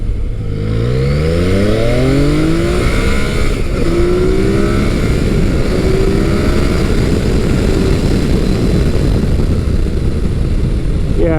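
An adventure motorcycle engine revs hard and climbs quickly through the gears, loud and close, with rising whines repeating as it accelerates under wind noise.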